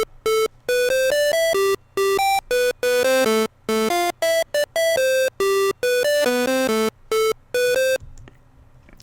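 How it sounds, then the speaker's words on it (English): An overdriven saw-wave synth lead with the distortion pushed to its maximum plays a fast, staccato melodic phrase of bright, buzzy notes, loud and unaccompanied, stopping abruptly near the end. "And we're going to want to use overdrive distortion with the amount all the way at 10."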